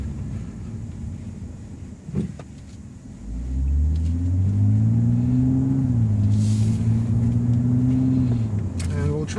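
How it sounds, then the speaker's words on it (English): A 2014 BMW 2 Series 228i/M235i engine heard from inside the cabin through closed windows: low rumble rises into a steady revving drone as the car accelerates, holding strong and muffled to the end. "The car sounds great. You kind of can hear it through the closed windows."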